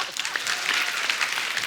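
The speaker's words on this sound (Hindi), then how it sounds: "जोरदार ताली हो जाए।" A studio audience at The Kapil Sharma Show comedy show claps and cheers, producing dense, loud, continuous applause that holds steadily from start to finish.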